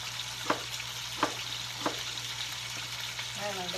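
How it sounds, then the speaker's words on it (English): Chicken thighs sear in a hot pan with a continuous loud sizzle, broken by a few sharp clicks or taps of a utensil at regular intervals. "We're just searing this"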